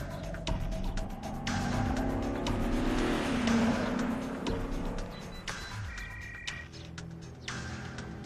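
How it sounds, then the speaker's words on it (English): Car engine close by as the car drives away, revving and accelerating with a brief tire squeal, then fading into a softer background rumble. "they're driving away now"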